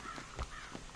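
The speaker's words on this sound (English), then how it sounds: "I hear a bird." A crow-like bird caws a few times in the open-world Western game Red Dead Redemption 2, short harsh calls over a steady outdoor ambience.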